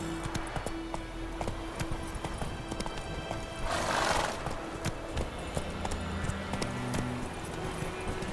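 Roach, the horse in the video game Witcher 3, gallops with quick, close clip-clopping hoofbeats, and a loud whinny breaks in partway through.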